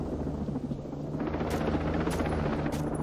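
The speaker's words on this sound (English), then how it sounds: "Come on, little chopper." Helicopter rotor in the military shooter Ghost Recon Breakpoint, a continuous loud droning whir with steady low throb, joined midway by brief bright bursts that may be gunfire.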